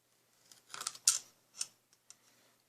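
Scissors or a razor knife cut through leather while making a leather feather, a few short crisp snips and slices close by, spaced irregularly in a quiet room.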